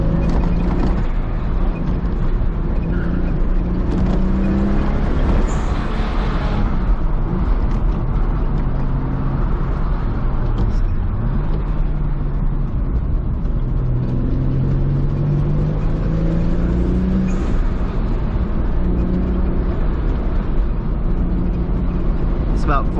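A high-mileage Toyota Supra accelerates in second gear on a canyon drive, its engine droning and rising steadily from inside the car, with someone talking over it at times.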